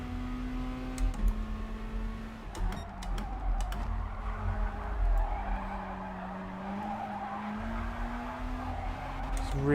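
Porsche race car in the Gran Turismo Sport video game, its engine droning and shifting pitch through gear changes while tires squeal and skid, with someone talking over the racing.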